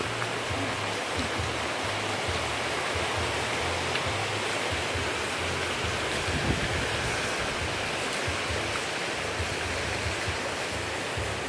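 Heavy rain pours down steadily, a dense, constant broadband hiss that stays loud and unbroken from start to finish with no voices.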